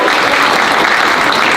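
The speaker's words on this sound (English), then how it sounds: "Can we clap?" A short burst of applause from a room full of people at a town council meeting, steady clapping throughout.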